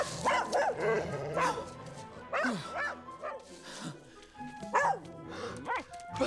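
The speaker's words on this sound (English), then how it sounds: "Snowy makes his heroic entrance and stares down the dog and barks so loudly, he barks him into submission" In a scene from the Tintin film, Snowy the terrier barks at a Rottweiler. Repeated sharp barks and yips are mixed with whimpers, and other sounds overlap them.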